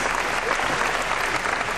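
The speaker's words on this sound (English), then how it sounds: "how about a nice round of applause for Alley Cat and Chance the Dog" Theme park stage audience applauding animal actors, a cat and a dog, a brief steady burst of many hands clapping together.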